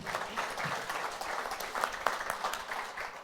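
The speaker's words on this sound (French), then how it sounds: "On peut l'applaudir." Audience at a technology panel on AI applauds a panel speaker, a soft, steady patter of many hands heard from a distance throughout.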